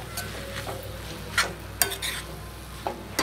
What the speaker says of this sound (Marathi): व्यवस्थित असं मिक्स करून घ्यायचं।